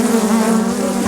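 Honeybees buzz close around microphones at a beekeeping apiary in Touraine, a steady, dense, continuous droning hum that is loud and near.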